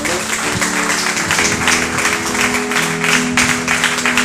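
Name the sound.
church congregation applauding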